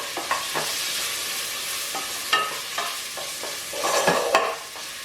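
A Sri Lankan green bean curry with onions, mustard seeds, curry leaves and green chili frying in hot oil, with steady close sizzling broken by repeated scraping stirs of a spoon against the pan.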